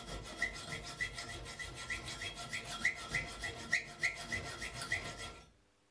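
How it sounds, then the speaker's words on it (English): A hand saw cutting through an iron bar guided by an angle joint, a steady back-and-forth rasping with short squealing strokes repeating at an even pace up close, stopping near the end. "You can cut the iron bars by using an angle joint as guide for the saw."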